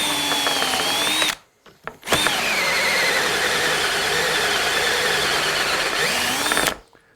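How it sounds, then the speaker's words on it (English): A power drill boring hinge holes in a cabinet door whines loudly at high speed, cuts out briefly for a couple of short bursts, then runs steadily again before stopping. "We're going to come into here and drill the other hinge."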